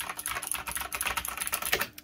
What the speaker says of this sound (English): So a blue switch is clicky.